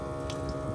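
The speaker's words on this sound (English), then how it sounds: "We got a working faucet" Water runs steadily from a newly installed sink faucet in a van kitchenette, making a soft, continuous splashing stream with no talking.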